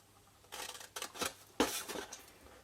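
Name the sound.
cutting card with scissors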